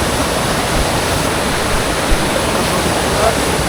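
The Rani Chua waterfall in Bargarh, Odisha pours down forcefully in a steady, dense, loud rush of water that stays unbroken throughout.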